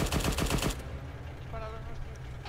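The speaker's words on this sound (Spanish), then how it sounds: "Cuidado con los tiros esos." Rapid automatic gunfire in the 82AD Liberation video game rattles in a short, loud burst of closely spaced shots, then stops and leaves a low ambient rumble.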